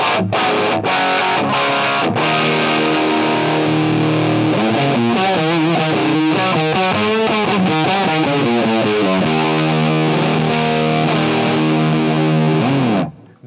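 Electric guitar played through an affordable overdrive pedal, giving a thick, saturated tone with sustained chords and bending, wavering lead phrases, loud and close with no talking.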